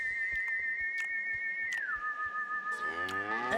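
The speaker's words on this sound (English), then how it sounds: "we hear another whistle" Cartoon whistle rising out of a melon hole in a lunar crater: a steady sustained tone that bends downward partway, then a swirl of descending sliding tones near the end, with soft repeated taps beneath.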